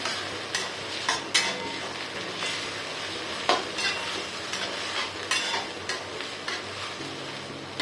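Green chutney and red chili being stirred into a pan, with a low sizzle under a series of sharp spoon scrapes and taps at irregular intervals, close by and with no one speaking.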